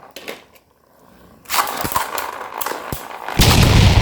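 Beyblade tops launched into a stadium: a quiet patter, then a loud burst of rapid metallic clashing and scraping with sharp clicks, growing harsher toward the end.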